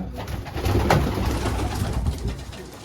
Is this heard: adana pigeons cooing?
yes